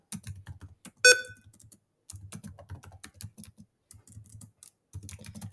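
A computer keyboard typed on in quick bursts of close, crisp key clicks, with a short electronic beep near the start and brief pauses between words.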